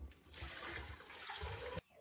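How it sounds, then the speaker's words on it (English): Water pours into blended sauce for Mexican rice: a steady, fairly loud splashing rush lasts about a second and a half, then stops abruptly. "Add your water."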